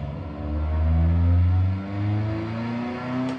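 A car engine in a manual-transmission driving simulator revs up loudly and steadily, rising in pitch as it accelerates, dipping briefly at a gear change, then pulling on again.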